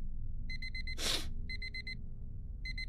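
An alarm clock in the horror game The Fog Is Coming rings in short repeated bursts of high electronic beeps, with a loud breathy gasp cutting in between groups.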